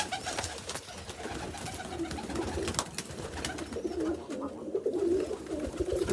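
Pigeons in a loft coo softly and repeatedly, low murmuring calls rising and falling near at hand over faint rustling and handling noise.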